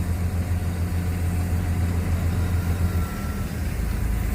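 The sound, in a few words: Komatsu PC200-8 excavator engine idling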